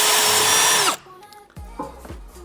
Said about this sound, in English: So we cracked out the new Irwin Cobalt drill kit